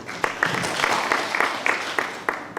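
Applause from a conference audience at a university science and technology session, a modest scattering of hand claps with a few sharper individual claps standing out across the short stretch.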